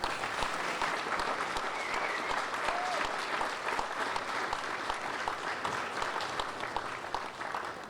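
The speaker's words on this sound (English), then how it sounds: "So can I have a special round of applause for Steve Rosen and Harry Glanz?" A round of applause at a Jewish sports hall of fame ceremony, a large audience clapping steadily and densely throughout, with faint voices mixed in.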